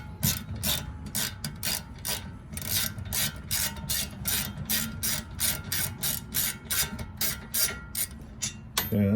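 A ratchet spins out a bolt on the rear brakes of an Alfa Romeo Giulietta, a fast, even train of sharp, close clicks running steadily for several seconds with no speech.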